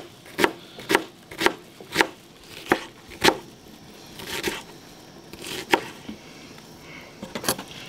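Wild hare meat is chopped very finely by hand with a knife on a board, producing a series of sharp, close chops in an uneven rhythm, about a dozen strikes with short gaps and no talking.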